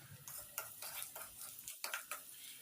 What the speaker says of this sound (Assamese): লৰাই দি অলপ সময় ৰঙচুৱা হোৱালৈকে ভাজি ল'ম।